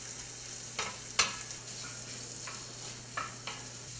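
Spicy shrimp with crushed red pepper flakes sizzling in a pan, a soft continuous fry broken by a few sharp stirring scrapes, close and moderately quiet.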